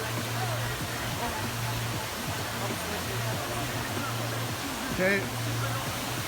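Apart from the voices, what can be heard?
waterfall rushing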